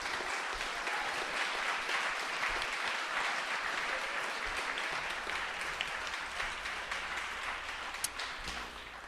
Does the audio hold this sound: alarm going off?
no